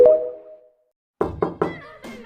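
Three firm, evenly spaced knocks on a door in Roblox Berry Avenue, loud and close, following a fading tone, with a softer fourth knock trailing after.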